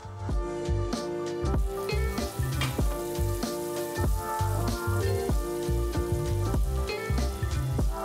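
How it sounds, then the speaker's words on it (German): Steady, loud sizzling of tofu frying in oil in a pan, a dense crackle with irregular pops throughout, close up and without speech. "dann brate ich die in der Pfanne knusprig an"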